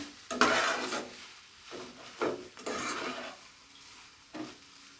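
Egg noodles with tomato sauce and noodle spice mix are tossed in a pan in several short, soft scraping bursts separated by quiet pauses, close and fairly faint, with no talking.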